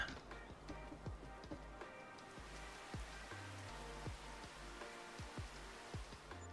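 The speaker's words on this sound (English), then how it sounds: "Bit of rain." Rain falls in the Farming Simulator 25 video game, a steady, soft patter with scattered heavier drops. It stays faint and even throughout, with no voices over it.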